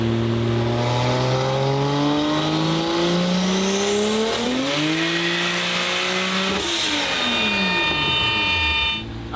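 A 2JZ-swapped Nissan 240SX with an 800 horsepower build and a 6-speed manual, running on a dyno: a loud, sustained engine pull climbing steadily in pitch, then the revs drop with a high turbo whine, unbroken and close.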